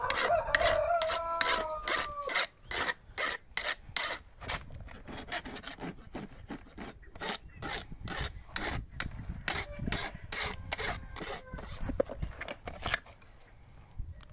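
Farrier rasping and finishing a horseshoe and the clinched nails on a horse's hoof, a steady run of close, rough scraping strokes that goes on throughout with no talk.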